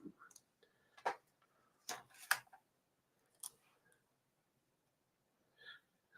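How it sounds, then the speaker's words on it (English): Scissors snipping out paper card pieces for a handmade card: a few separate crisp cuts, close and fairly quiet, spaced with pauses between them and no talking. "we're going to cut these out"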